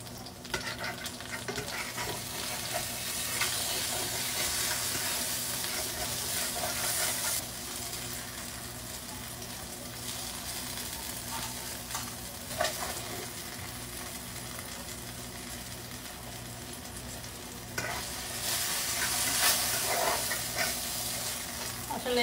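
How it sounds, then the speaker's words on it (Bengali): Eggplant slices frying in oil in a pan, with a continuous moderate sizzle and occasional louder bursts as the pieces are moved and turned. "বেগুন ভাজা হয়ে গিয়েছে, এবার উঠিয়ে নিব"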